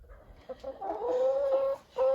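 Backyard chickens on a small homestead cluck in short bursts, ending in a drawn-out higher-pitched cackle and then another call, close and fairly quiet.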